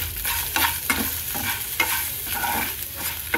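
Ginger fries in a pan with a little salt and turmeric for a homemade pickle, its soft sizzle broken by repeated scraping strokes of a spoon stirring close up.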